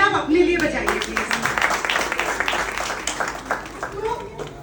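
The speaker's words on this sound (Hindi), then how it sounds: "एक जोरदार तालियां आप अपने लिए बजाइए प्लीज" Crowd applause at a Lions club district gathering on service, a dense patter of many hands clapping steadily for several seconds while a voice talks over it.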